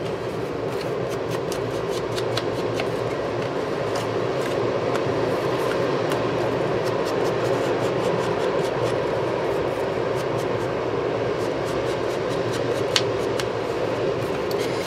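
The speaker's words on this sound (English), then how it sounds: "Sorry about the train, you guys." A continuous low rumble with rhythmic clacking as a train rolls past nearby, heard through an open window, steady and loud for the whole stretch.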